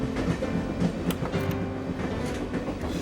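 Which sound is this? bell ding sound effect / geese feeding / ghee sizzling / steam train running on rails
steam train running on rails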